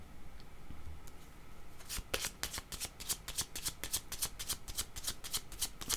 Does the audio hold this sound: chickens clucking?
no